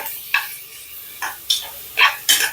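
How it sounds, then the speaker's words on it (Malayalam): Onions sautéing in a pressure cooker, stirred in short bursts: several scraping, sizzling strokes at irregular intervals over a quiet background, close and fairly loud, with no talking. "ഇത് പെട്ടെന്നൊന്ന് ഉള്ളി വഴഞ്ഞ് കിട്ടാൻ വേണ്ടിയിട്ടാണ് ഇങ്ങനെ കുക്കറിൽ ചേർത്ത് കൊടുക്കുന്നത്"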